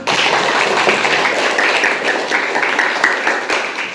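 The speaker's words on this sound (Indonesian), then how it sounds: "tepuk tangan untuk kita semua" Classroom applause from students, a dense steady patter of many hands clapping together for several seconds, fairly loud and close.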